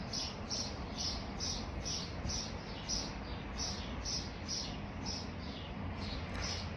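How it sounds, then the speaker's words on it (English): Birds chirp in quick repeated bursts, a steady series of bright high calls over a constant low background hum, fairly faint and with no talking. "Oh, the birds are excited."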